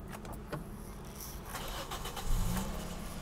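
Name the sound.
Toyota Vios 2015 car engine starting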